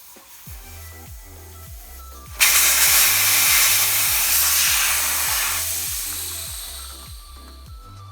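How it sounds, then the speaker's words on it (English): Air hisses loudly and steadily out of a motorcycle tire valve on a Rieju MRX after the valve core is unscrewed, a broad rushing burst that slowly tapers over several seconds above a repeating rhythmic background beat. "So we're going to take out all the air"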